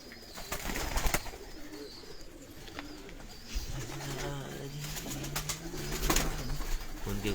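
Pigeons coo in low, soft rolling calls amid rooftop outdoor ambience in Sialkot, with occasional bird chirps and faint rustling nearby.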